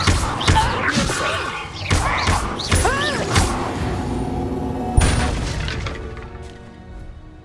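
Spell blasts crash and thud one after another in a wizard duel in Hogwarts Legacy, loud booming impacts with whooshing bursts over a steady roar, a sharp crack near the end.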